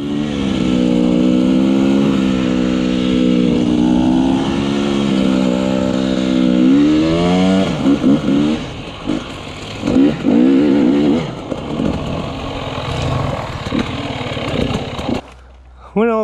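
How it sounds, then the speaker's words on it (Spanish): Enduro motorcycles idle and rev close by, the engine drone rising and falling with sharp throttle blips before cutting off near the end. "después de no saber ni cómo suenan las motos"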